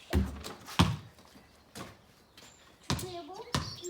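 Basketballs thump on a hard floor in separated single bounces as kindergarten-to-second-grade children practice dribbling, with faint voices in the background.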